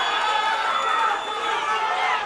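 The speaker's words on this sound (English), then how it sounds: "The crowd is getting excited." Crowd noise rises and swells at a live jiu-jitsu fight, a steady broadband roar of excited spectators cheering and shouting, loud and continuous throughout with no clear single voice standing out.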